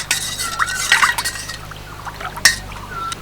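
Slaked lime, the kind eaten with betel leaf, is stirred into water for a raw mango preserve, giving a few soft liquid swishes and splashes with a brief clink near the end.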